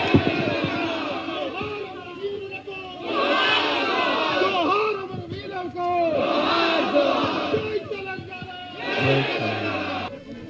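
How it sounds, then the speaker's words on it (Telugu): A protest crowd at a Cockroach Janata Party rally cheers and shouts for Professor Nageshwar in loud rising waves of massed voices, with quieter murmuring between the surges. "ప్రొఫెసర్ నాగేశ్వరరావు గారికి గట్టిగా చప్పట్లు కొట్టాల్సిందిగా"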